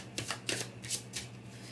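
Tarot cards being shuffled and drawn, with a few soft, close riffling and sliding bursts in quick succession, quiet and alone.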